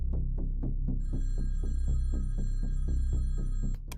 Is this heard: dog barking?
no